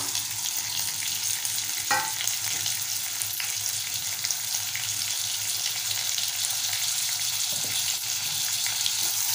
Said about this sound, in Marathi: टोमॅटो आपल्याला नरम होईपर्यंत परतवायचं आहे।